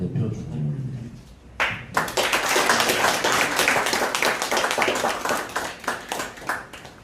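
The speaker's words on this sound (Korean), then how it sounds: "여러분 뜨거운 박수 한 번만 더 부탁드리겠습니다." Applause in a hall at a Korean Our Republican Party North Gyeongsang provincial chapter meeting to appoint a new chapter chair. Dense clapping from many hands breaks out after a quiet start and carries steadily to the end.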